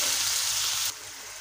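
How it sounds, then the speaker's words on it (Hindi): Tomatoes frying with ginger and garlic in a pot for chicken seekh kabab biryani, a dense close hiss that drops abruptly to a softer sizzle after about a second. "तो अब हम इसमें ये 2 मीडियम साइज़ के टमाटर थे, ये हम इसमें शामिल कर देते हैं और इसको भी हम अच्छी तरह फ्राई कर लेते हैं"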